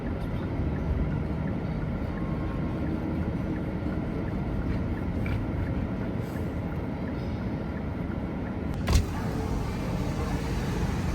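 A car travels along a road on a long drive to Bangalore, heard from inside as a steady, loud low rumble with continuous road and wind noise and a single brief bump late on.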